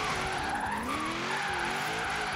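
A car in Forza Horizon 3 drifts and spins out, loud continuous tyre squeal sliding up and down in pitch over a revving engine, close and unbroken for the whole moment.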